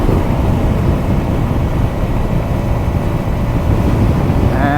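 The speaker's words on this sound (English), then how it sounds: "Still full throttle, still going up the hill." Engine drone of a 2025 NEXT NX2 125cc scooter held at full throttle while climbing a hill, steady loud continuous roar blended with heavy wind buffeting, no talking.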